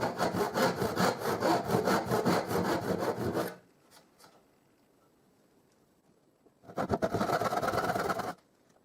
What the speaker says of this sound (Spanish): voy inclinando la sierra hasta llegar a la línea horizontal